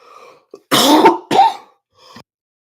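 Two harsh, close throat-clearing coughs in a row, with faint breathy sounds before and after.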